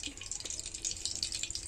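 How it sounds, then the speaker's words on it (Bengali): Cooking oil pours into a pan in a brief, faint, hissing trickle with a few small splashes, heard on its own. "এবার তেল দেব ওর ভিতরে"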